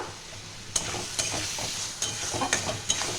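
Spice paste with ginger, garlic and chopped green chillies sautéing for khichuri: a steady oily sizzle with a few sharp spoon scrapes and clinks against the pan spaced through it, close and moderately loud, no voices.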